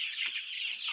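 Chickens in a farm coop clucking, a short close burst of hen clucks and chatter with no voices over it.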